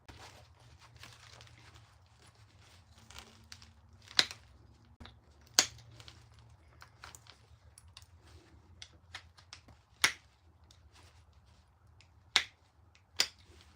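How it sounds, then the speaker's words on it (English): Flint knapping a glass bottle into an arrowhead, with small sharp pops and ticks as flakes are pressed off, scattered irregularly over a quiet low hum, close and fairly faint. "every time you hear a little pop, that's the sound of me pushing a little flake off"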